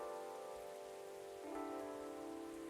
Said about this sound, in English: I think the rain is over.